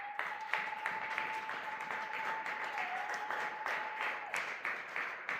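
A congregation at a Sunday worship service in a church applauds, with rapid scattered clapping and a held tone running beneath it, moderately loud and continuous.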